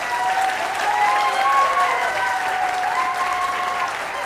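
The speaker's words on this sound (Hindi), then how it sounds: "हम बहुत जोरदार तालियों के साथ स्वागत करेंगे।" A loud, close crowd of seated attendees claps vigorously to welcome a guest speaker, with a thick steady roar of hands and faint voices mixed in throughout.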